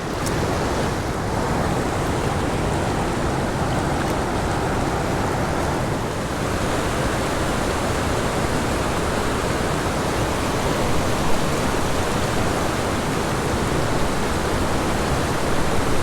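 A boulder-strewn fishing river rushes over rocks in pockets of fast water, a steady, full broadband roar with no breaks, close and continuous, no voices.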